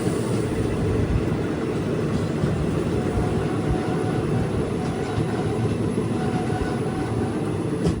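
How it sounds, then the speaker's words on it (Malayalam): A passenger train on the Nilambur–Shoranur line pulls into Melattur station, giving a steady, loud, close rumble of wheels and carriages with faint clatter throughout and no talk. "ട്രെയിൻ ഇപ്പോൾ മേലാറ്റൂരിലേക്ക് എത്തുകയാണ്."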